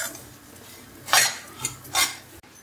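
A utensil scrapes and clinks against a pan while semolina is stirred and roasted in ghee, with three distinct scraping strokes over a quiet background.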